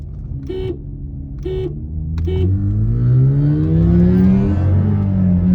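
A Honda City and a Volkswagen Virtus accelerate hard side by side in a rolling race; three short horn toots come first, then engine notes climb steadily in pitch, rising loud and close as the cars pull away.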